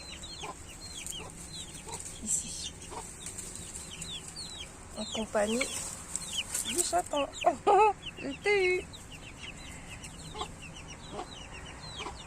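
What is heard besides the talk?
mother hen clucking with chicks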